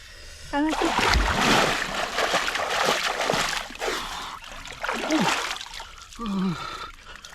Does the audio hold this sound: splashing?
yes